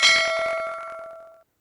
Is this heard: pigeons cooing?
no